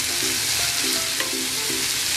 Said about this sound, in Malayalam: ഞാൻ ക്യാരറ്റ് ഇട്ടത് ഇട്ട് അതൊക്കെ വഴറ്റുവാണ്